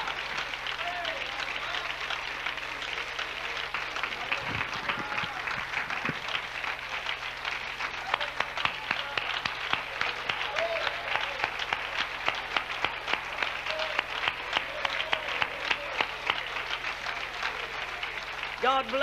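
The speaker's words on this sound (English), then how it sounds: "Come on and let's just clap our hands and thank God that it's happening." Church congregation clapping hands together in a long, steady burst of applause during a prayer service, with scattered voices and talk mixed in beneath the dense clapping.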